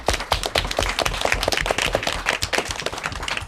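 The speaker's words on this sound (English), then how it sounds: "I'd like to hear a big round of applause" A small audience at an elementary school academic quiz match applauds, with distinct individual claps close by forming an uneven, lively patter at steady strength.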